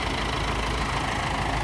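A tractor engine runs at a steady idle during sprayer calibration, a close, continuous mechanical drone with no voices over it.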